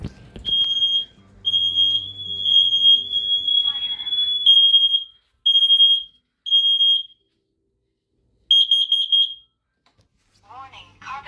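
A home smoke alarm sounds a piercing, high-pitched tone, first in long sustained blasts, then in short repeated beeps separated by silent pauses, with a voice briefly heard near the end.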